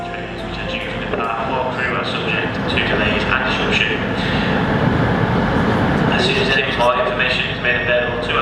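Pacer train at a station, a loud rumbling diesel drone with clanking and rattling carriage noise, close by, with people talking over it.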